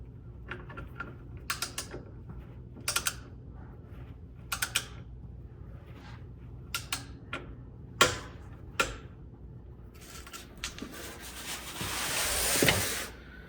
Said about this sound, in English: we're going to tighten the fill plug to 25 foot-pounds using our torque wrench